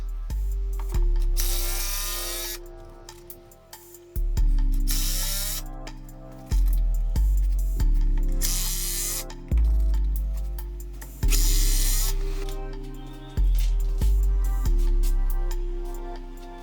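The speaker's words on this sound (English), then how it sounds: "this is a Bosch driver. It's a 36 volt" A Bosch 36 volt cordless driver used in building a shop workbench, running in repeated bursts of whirring and ratcheting, each burst starting loud and tailing off, close up with short pauses between.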